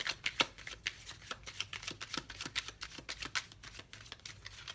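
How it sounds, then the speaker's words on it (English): Tarot cards being laid out in a row on a table, giving a steady run of close, crisp card slaps and papery flicks with no talking. "I'm putting out my second row, and I'm only going to do, let's do 6 cards here as well"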